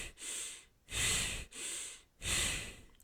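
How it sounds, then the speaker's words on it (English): A person demonstrates shallow upper-chest breathing, four loud, close breaths alternating inhale and exhale in a steady rhythm, with no talking. "Are you breathing like this?"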